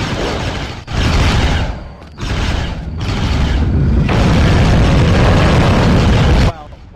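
Dense, loud shooting at an enemy in the CastleMiner Z block-building game, a continuous noisy barrage with brief cuts lasting several seconds.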